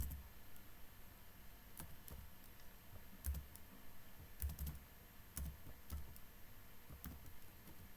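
Quiet computer keyboard typing as code is written, scattered soft key clicks in uneven bursts with pauses, close and alone against a faint background hum.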